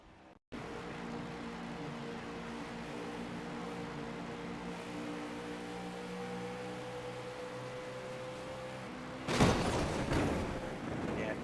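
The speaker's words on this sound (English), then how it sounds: "you can hear the tire just flapping around" A damaged race car in a stock-car racing video game rolls along with a loose, flapping tire, heard as a steady engine-and-tire drone with a low periodic beat, ending in a louder burst of noise near the close.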